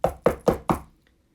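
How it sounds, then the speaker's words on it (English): Knocking on a door during a stage performance of Macbeth: four sharp, evenly spaced knocks in quick succession, loud and close, followed by silence. "I hear a knocking at the south entry."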